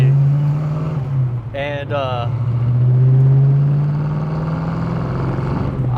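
A Fox Body Ford Mustang's engine drones low and steady while driving, with a brief rise in revs near the start. The car is heard close from inside, and a person speaks over it.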